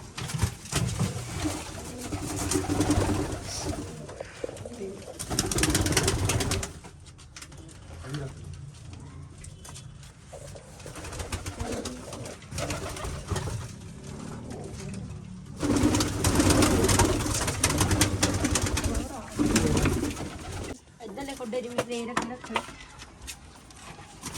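Pigeons coo repeatedly in soft, low bursts, mixed with people talking nearby and some rustling and movement noise.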